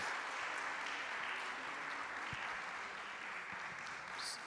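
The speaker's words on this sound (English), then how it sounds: "Could you have a round of applause for that?" Sustained audience applause at a Kerala accessibility event fills the room steadily for several seconds, dense and even, with no voices over it.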